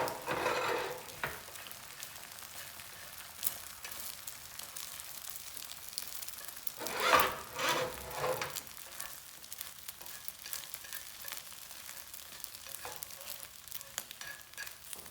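Scrambled eggs sizzle and fry steadily in a pan while chopsticks push them toward the center, with brief scraping bursts over a constant close hiss and no talk.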